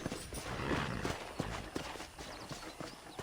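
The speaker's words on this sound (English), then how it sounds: "let's see if you can still ride a horse" Horse hooves clip-clop at a steady trotting rhythm as a rider travels in Red Dead Redemption, dense and fairly close over a soft background rumble, with no talking.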